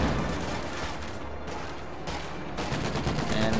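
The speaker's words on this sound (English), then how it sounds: "Volley fire actually going out on these Obersoldaten." Infantry volley fire on Obersoldaten in a World War II strategy game, a dense, continuous rattle of rifle and machine-gun shots with distant booms, sustained at a fairly even loudness throughout.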